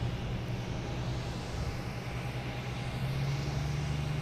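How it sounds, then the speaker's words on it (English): A JetBlue airliner landing at Boston Logan Airport makes a steady, distant roar of jet engines that swells slightly toward the end, heard without speech. "Also have a JetBlue coming in on 3-2 from Nantucket."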